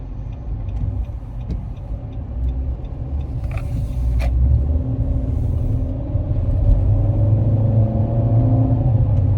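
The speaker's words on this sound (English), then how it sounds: "I'm gonna be able to make this U-turn before they even make that left turn." Car on a road making a U-turn, a low steady engine rumble that swells slightly as it turns, with traffic noise around and a brief hiss midway.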